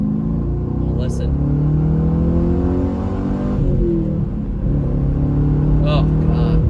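Chevy Camaro SS V8 revving hard up toward redline from inside the cabin, a loud steady rising engine drone with shifting harmonics that dips briefly and climbs again.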